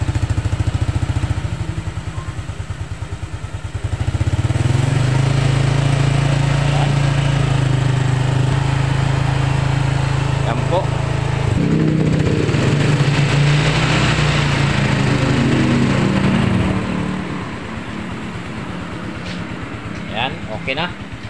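A Honda Click 125 scooter that had run out of coolant idles steadily after starting, a loud, close, continuous engine hum with a slight rise partway through, while someone talks over it.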